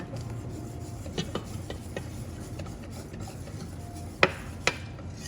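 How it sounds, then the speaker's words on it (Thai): A wooden spatula stirs and scrapes through batter with vanilla and melted butter for crispy Tokyo pancakes, a soft, steady swishing up close with a couple of sharper taps against the bowl. "คนทุกอย่างให้เข้ากันค่ะ ใช้ไม้พาย กวาดให้เท่าเข้ากันค่ะ"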